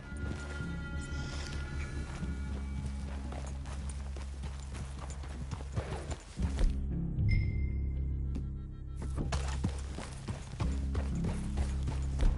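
Riders' horses walking through a woodland clearing, a steady run of close hoof clip-clops with a brief pause midway, accompanied by a droning musical score.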